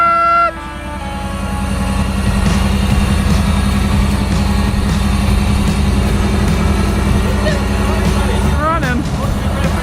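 A wrecked Ferrari Koenig kit car engine cranks, catches and settles into a loud, steady rumbling idle that carries on close by with some background noise.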